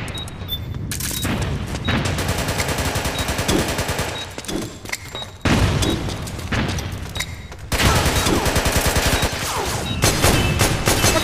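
Heavy gunfire in the online multiplayer game Metal Gear Online: dense rapid machine-gun bursts with booming impacts, loud and sustained with brief pauses between volleys.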